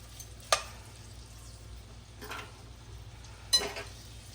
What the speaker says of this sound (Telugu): ఇంకెలా కదపకుండా ఇలా వేపుకుంటే సరిపోద్ది